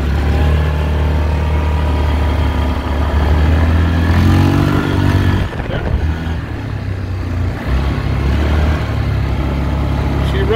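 A Yamaha 4x4 ATV engine running steadily while being ridden around the block, a loud, continuous mid-pitched drone that rises and dips slightly as the throttle shifts, heard close up throughout.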